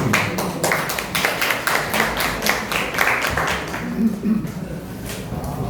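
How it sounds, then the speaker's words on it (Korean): Audience applause welcoming a guest lecturer at a Korean livestock-grading education session, steady dense clapping from a seated crowd lasting several seconds, moderately loud and even throughout. "큰 박수로 환영 부탁드립니다."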